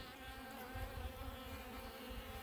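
Honey bees buzz around a hive, a dense continuous drone of many wings filling the air close by without pause.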